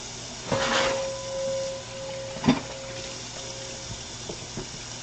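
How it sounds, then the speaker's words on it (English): A kitchen tap runs water into a container to make a turkey brine, with a soft steady stream, a few clunks and knocks, and a thin tonal whine, fairly close and alone. "Next up I am filling some water and I'm going to brine the turkey."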